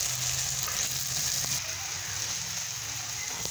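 Masala pav, bread tossed with vegetable masala, fries in ghee in a hot pan with a steady, close sizzle and crackle that keeps going throughout.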